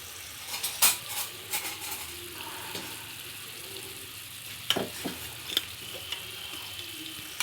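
Chicken cooking in a pan for Andhra-style chicken pickle while being stirred with a ground mustard, garlic and cumin paste; a faint low sizzle under scattered spoon scrapes and taps, quiet and close.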